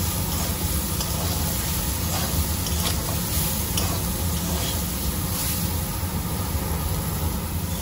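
Turmeric, chilli powder and chopped tomato sauté for a vegetarian soybean curry, a dense, even sizzle holding steady at close range, with faint stirring scrapes under the constant hiss.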